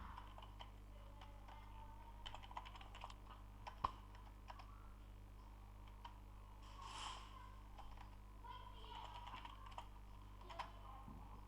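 Someone types on a computer keyboard. Faint, irregular key clicks come in small clusters over a low steady hum, with no one speaking.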